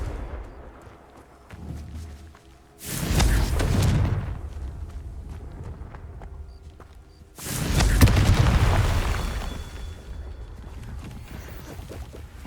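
Two loud explosive blasts from the Confringo fire spell in Hogwarts Legacy, one near 3 s and another near 7.5 s, each a booming burst with a rumbling tail, set against quiet game ambience.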